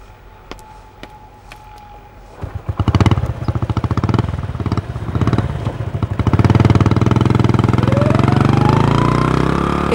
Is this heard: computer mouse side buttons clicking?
no